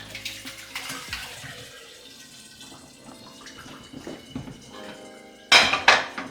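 Water sloshes and trickles through a strainer as it is drained from fresh cheese curds made with vinegar for rasmalai, with light clinks of pots and utensils, ending in a couple of louder metallic clatters and splashes.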